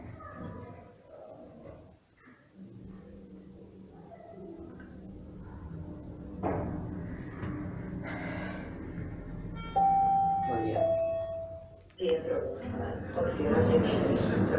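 An electronic bell-like chime sounds inside a residential lift, a steady held tone followed by a second, lower ring, over mechanical hum and shuffling while a person talks nearby.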